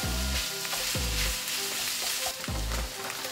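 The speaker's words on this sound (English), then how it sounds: "When the moisture of the bulgogi has evaporated, add the stir-fried onions and mix them." Bulgogi sizzles steadily in a pan as stir-fried onions are mixed in, with a few scraping strokes of the utensil against the pan over the constant frying hiss, up close with no talking.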